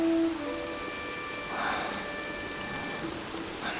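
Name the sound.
heavy rain falling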